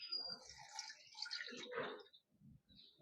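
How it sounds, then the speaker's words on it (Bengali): Soaked boondi being strained, soft drips and trickles of water falling through as it drains, faint and close, trailing off into a few scattered drops. "ভালো করে জলটা ঝরিয়ে নিতে হবে।"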